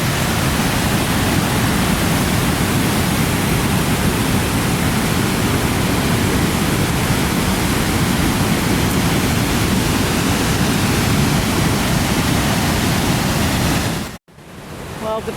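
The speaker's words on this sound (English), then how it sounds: "You see the rivers coming down the waterfall," A river pours down the Silver River Falls in Skanee, a loud, steady broadband roar of rushing water that continues unbroken until it cuts off abruptly near the end.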